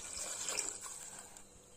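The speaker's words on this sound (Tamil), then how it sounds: "3 கப் அளவுக்கு நான் தண்ணி சேர்த்துக்கிறேன்" A quiet, steady hiss of water being poured into a pan of wheat rava for kichadi, continuous and close, with no talking.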